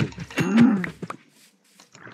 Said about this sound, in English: Maybe I can kill this cow over here.